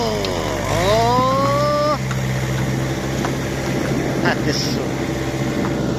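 Lovol 354 tractor engine revs hard with a Wirax 1.6 rotary tiller while tilling soil for a cabbage planting, a rising whine climbing over the first two seconds and then settling into a steady loud drone, with someone talking over it.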